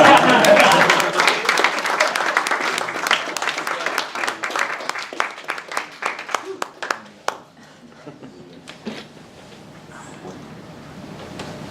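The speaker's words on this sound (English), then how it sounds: "I'm just going to give us a clap before we move on to questions." Applause from a small audience after a final group presentation on an Alzheimer's IoT project, loud and dense at first, then thinning into scattered individual claps that trail off toward the end.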